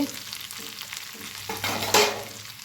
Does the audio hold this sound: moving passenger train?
no